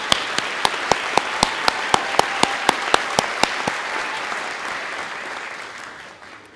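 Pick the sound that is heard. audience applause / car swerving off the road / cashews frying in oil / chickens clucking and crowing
audience applause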